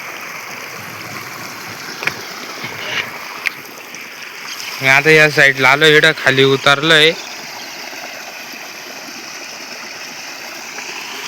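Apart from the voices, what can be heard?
water flowing in a small village stream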